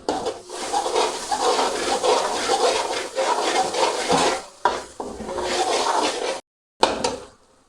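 Fresh raw turmeric and onions are stirred and fried in a pan: a spoon scrapes the pan repeatedly over a steady sizzle, with short pauses near the end.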